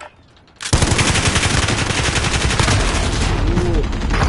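Rapid gunfire in a video game erupts after a brief quiet and keeps going as a loud, continuous automatic burst of dense, closely spaced shots.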